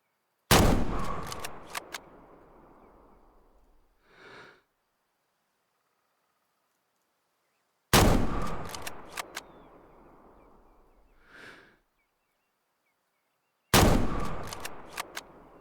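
Three loud single rifle shots from a 1903 fired with iron sights at a 25 meter target in the Way of the Hunter hunting game, spaced several seconds apart, each with a sharp crack and a decaying tail followed by a brief mechanical bolt sound.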